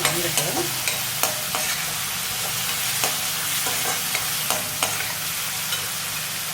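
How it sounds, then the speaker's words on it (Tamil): Onions frying in gingelly (sesame) oil for a chicken dish, stirred in the pan: a steady close sizzle broken by regular scraping strokes of the spoon, with no talking. "பாருங்கள் வெங்காயம் நல்லா வணங்கிருச்சு"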